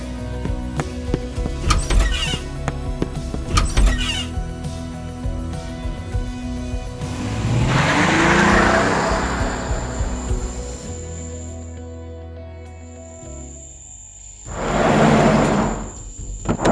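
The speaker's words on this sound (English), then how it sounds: "whose car was that outside?" A car drives up outside, its engine and tire noise swelling to a broad rush, fading, then surging again near the end, with faint squeaky clicks early on and no talking.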